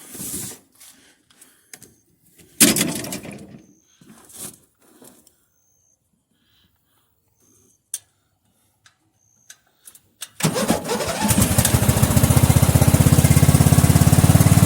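An old, filthy lawn mower engine is cold-started. A few pulls and rattles come with quiet gaps between them, then it fires and settles into a loud, continuous running drone.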